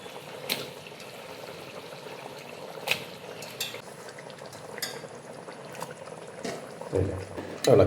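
Chicken pieces go into a boiling masala gravy and are stirred, giving soft liquid bubbling with occasional scrapes and clinks of a utensil in the pot, moderately quiet and steady throughout.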